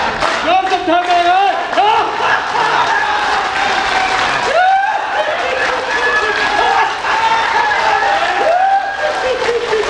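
An awards ceremony audience breaks into loud, steady applause, a dense wash of clapping that carries on throughout with voices mixed in.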